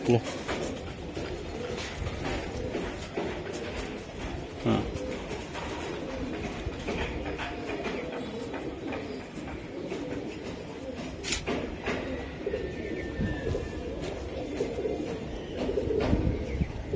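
Racing pigeons coo softly in the background while someone talks nearby, with occasional clicks and shuffling noises.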